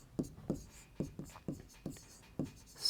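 Pen or chalk strokes from numbers being written by hand during a Class 10 maths probability lesson, a quick series of about eight short scratchy taps spread over three seconds, faint and close.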